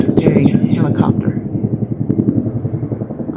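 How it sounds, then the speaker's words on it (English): A military helicopter passes overhead, its rotor thumping in a fast, even pulse that starts loud and eases off slightly, with a voice talking over it at the start. "It's like a military helicopter."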